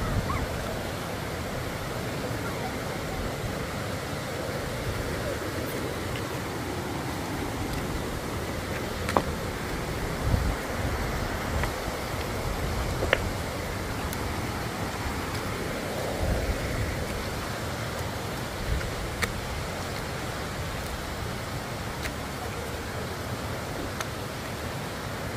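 Steady broadband rush of the river between Cavinti and Mauban, Quezon, flowing continuously up close with a constant wash and faint scattered clicks, no voices.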